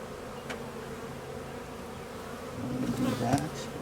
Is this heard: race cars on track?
no